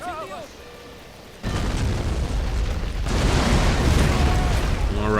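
Cannon fire in a video game about the American Revolutionary War: a sudden loud boom that becomes a sustained, dense rumble of blasts and explosions, with a brief voice near the start.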